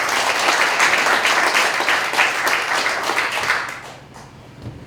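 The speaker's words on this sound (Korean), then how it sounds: "여러분 이분들의 노고를 큰 박수로 한번" An audience at a citizens' forum general assembly breaks into loud, dense applause. The sustained clapping holds steady, then thins out and fades toward the end, leaving a few scattered claps.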